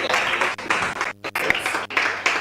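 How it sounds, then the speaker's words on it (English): Steady crowd applause, dense clapping from many hands with a couple of brief dips, fairly loud and close. "Keep the round of applause going."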